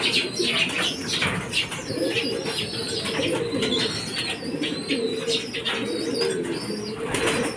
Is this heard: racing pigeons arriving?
yes